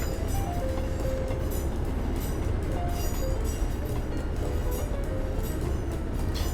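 Class 156 diesel unit rolling into Motherwell in Train Simulator 2014, a steady rumble of wheels on track with faint squeals and clinks over a continuous low drone.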